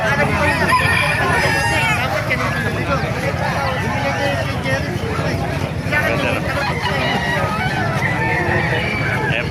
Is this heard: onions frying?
no